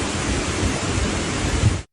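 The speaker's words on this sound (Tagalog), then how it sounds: "Dahil sa malakas na ulan at hangin." Heavy rain and wind from Typhoon Tino lash a highway in Santiago, Agusan del Norte, making a dense, steady roar that continues without a break and then cuts off abruptly.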